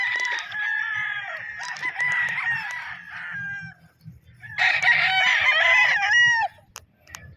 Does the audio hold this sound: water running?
no